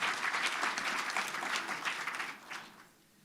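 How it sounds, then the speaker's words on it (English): Audience applause at a university public lecture honouring a retired medicine professor, a dense steady clapping from a crowd that holds for about two and a half seconds and then fades out. "Can we give him a round of applause?"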